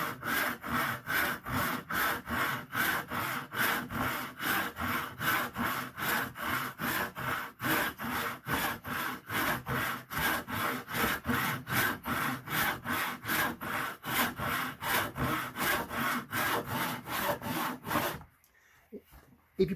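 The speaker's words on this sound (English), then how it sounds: "So gently slide the saw forwards and backwards." A tenon saw rasps steadily through wood in fast, even back-and-forth strokes, close and continuous, stopping abruptly near the end.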